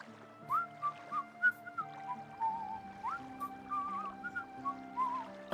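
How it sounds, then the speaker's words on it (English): Someone whistles a casual, meandering tune in a string of short bright phrases, close and clear over a quiet backdrop with a soft hum underneath. "nonchalant whistling aside"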